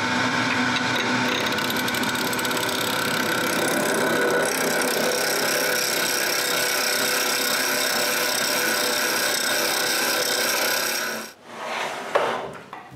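A wood lathe turns a wooden tool handle, producing a loud, continuous scraping and rasping hum that runs steadily before abruptly dropping off near the end, followed by brief clatter.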